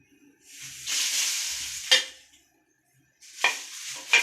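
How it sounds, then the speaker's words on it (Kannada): Chillies slowly roasting in cold-pressed sunflower oil, with two bursts of close sizzling and stirring separated by near silence, each ending in a sharp scrape or clink of a utensil, with no voices. "ಮೆಣಸಿನ್ಕಾಯಿ ಹಾಕಿದ್ದೇನೆ. ಹೀಗೆ ನಿಧಾನಕ್ಕೆ ರೋಸ್ಟ್ ಮಾಡಬೇಕು."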